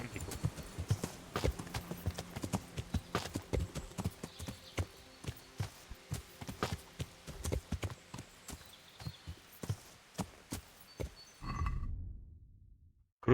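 Horse hooves in the game Kingdom Come: Deliverance strike in a steady run of distinct clip-clops, crisp and close, then stop abruptly near the end as a brief low rumble takes over.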